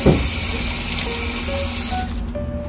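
Tap water runs steadily into a sink as something is washed, a continuous close, bright splashing hiss that fades slightly toward the end, with no talking.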